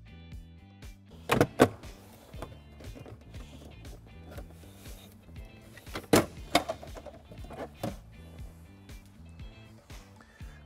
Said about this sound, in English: now we can just pull up on our rear threshold panel to remove it